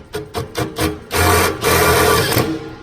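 A small self-tapping screw is driven with a power driver into a GE Profile wall-mount range hood: several short, stuttering bursts, then two longer steady whirring runs, close and loud.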